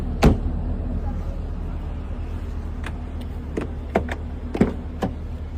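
A car cruises through Times Square in New York at night, with a low steady engine and road rumble inside the cabin and a few sharp clicks and knocks scattered through it.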